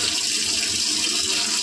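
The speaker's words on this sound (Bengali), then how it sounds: "এবার আলুটা জল ঝরিয়ে নেবো।" Water pours off boiled potatoes as they drain, a steady close rush of splashing liquid that runs for the whole short moment.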